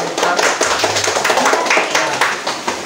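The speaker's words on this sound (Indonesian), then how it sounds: "Oke, tepuk tangan buat teman-teman." Classmates in a primary school class clap their hands for a group after a pencak silat kicking demonstration, a busy patter of claps with some voices mixed in, fairly close and steady for a few seconds.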